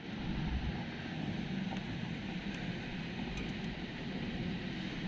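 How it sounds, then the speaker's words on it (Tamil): Heavy rain and strong wind lash a village with a steady, dense roar that carries on without a break and with no voices. "எங்கள் ஊரில் பயங்கர மழைங்க. ஒரு எவ்வளோ காற்றடிக்குதுன்னு."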